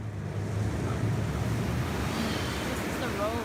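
A car ploughs through deep floodwater on a flooded highway in a heavy downpour, giving a steady close rushing wash of water with wind buffeting the microphone and no talking.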